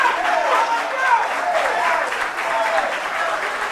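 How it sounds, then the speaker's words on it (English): A crowd at a school quiz contest applauds steadily for a team, dense clapping that fills the whole stretch at an even level. "A round of applause for the team."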